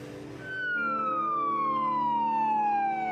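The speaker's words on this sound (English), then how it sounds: "Another ambulance on its way to try to save another life." Ambulance siren in Vancouver during the opioid crisis, a single loud sweeping wail gliding steadily downward in pitch as the vehicle passes, with low traffic rumble beneath.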